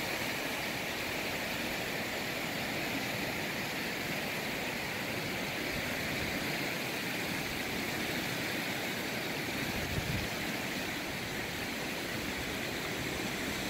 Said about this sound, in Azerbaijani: Bu da Vilək çayıdır